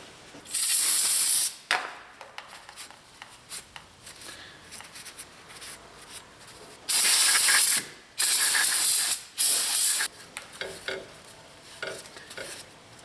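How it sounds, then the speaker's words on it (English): Several long hissing bursts from an aerosol can of brake cleaner sprayed on a Ford Flex's front brakes, separated by short pauses, close and fairly loud, with faint clinks between. "I'll take some brake cleaner, spray that down"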